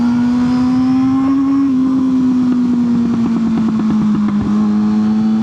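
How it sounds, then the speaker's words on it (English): A 600cc sport motorcycle engine holds a loud, close, steady rev, its pitch rising slightly and then settling, with no talk. "God, this bike sounds so amazing."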